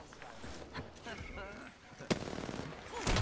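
Apex Legends gunfire: a sharp, loud shot cracks out partway through, followed by a rapid burst of automatic fire and another blast at the end, with voices talking underneath.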